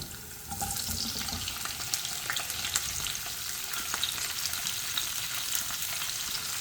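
Tomatoes added to onions frying in a pan with hing, a steady close sizzle with faint stirring and clinks throughout, no voices.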